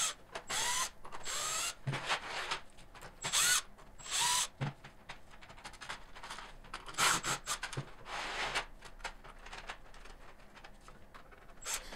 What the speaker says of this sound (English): now I'm just going to remove the back with my drill.